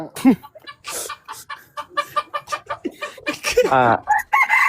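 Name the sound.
chickens clucking and rooster crowing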